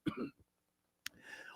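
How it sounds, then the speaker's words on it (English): A person clears their throat with a short rasping cough at the start, and after a brief silence a second rough cough-like burst follows. The sounds are close and fairly quiet. "I'm still coughing."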